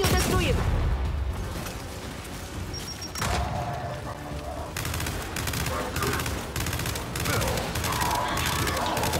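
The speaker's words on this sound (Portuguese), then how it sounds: "Essa Hammer Bust, que se você segurar ela, ela atira tudo, né?" A Hammerburst rifle fires repeated rapid bursts in the third-person shooter Gears 5. The loud, close gunfire crackles and booms over a busy battle soundscape, with mechanical clatter between shots.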